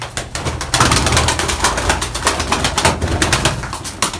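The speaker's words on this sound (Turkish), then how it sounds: "Şöyle kuşumuzu salalım." Rapid, loud flapping of a pigeon's wings in repeated bursts close by as it is released, with a soft cooing in the background.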